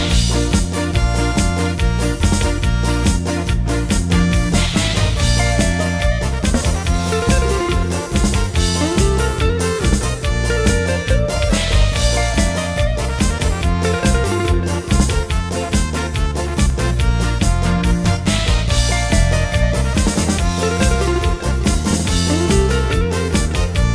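A loud brass band blares a lively, continuous diana fanfare at a San Francisco de Asis festival in Huañacota, with pounding drums and a steady driving beat, full and close throughout.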